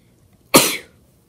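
A single sharp, close sneeze bursts out abruptly and fades within a fraction of a second, loud against near silence.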